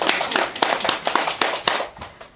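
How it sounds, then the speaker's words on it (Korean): A small group claps briefly during a Buddhist lecture at a meditation center in Seoul, with sharp, irregular overlapping hand claps that rise quickly and fade out after about two seconds. "이거 박수 쳐야 돼"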